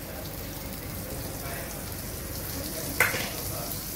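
Butter and a little oil sizzle steadily in a hot pan on a gas flame while chicken green tandoori is cooked at home, a soft continuous crackle with one brief sharper spit near the end.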